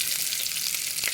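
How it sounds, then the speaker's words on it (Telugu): Curry leaves hitting hot tempering oil with mustard seeds, chana dal and dried red chillies while making a cucumber chutney, giving a dense, steady close-up sizzle that runs unbroken and alone. "పోపు అయితే వేగింది, ఇప్పుడు కరివేపాకు వేస్తున్నాను"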